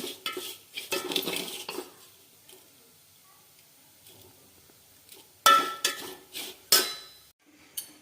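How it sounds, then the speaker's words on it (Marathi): Metal utensils scrape and clink against a pan while stir-frying a rice mixture, in bursts, with quiet pauses between stirring strokes. "तर मी परतून घेतलेले बघा"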